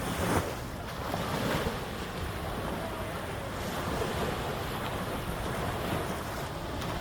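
Sea waves surge and wash continuously onto the beach on Boracay Island, where children are swimming, with a loud, steady surf roar and heavy wind buffeting the microphone; no one talks.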